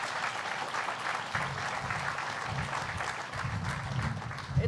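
A crowd applauds steadily for Rick Cotton at a Port Authority construction milestone event, with dense continuous clapping that swells loudest at the very end.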